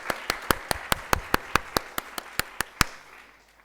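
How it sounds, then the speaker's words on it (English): A small group claps at a leadership discussion forum event, about a dozen sharp, evenly spaced claps in a near, synchronized rhythm that gradually slows and fades out at the end. "So I think we all deserve a clap for that."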